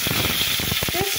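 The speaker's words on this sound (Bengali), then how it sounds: "তেল গরম হয়ে গিয়েছে, দিয়ে দিলাম একটু জিরে তেলের উপর।" Cumin seeds hit hot oil and sizzle with a bright, crackling hiss, close and steady over a moment, with faint popping through it.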